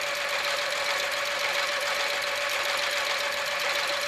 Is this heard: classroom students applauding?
no